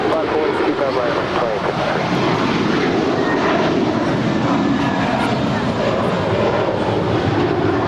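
A jet airliner rolls and climbs away from runway 25 Right at Los Angeles International Airport, a loud sustained roar of engines that holds steady, with radio voices under it.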